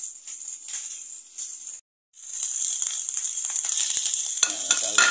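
Nasi goreng with chopped mustard greens sizzles loudly in a pan. It stops briefly, then returns as a dense, crackling fry with stirring scrapes.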